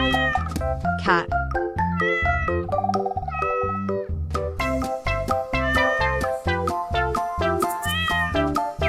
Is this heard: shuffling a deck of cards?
no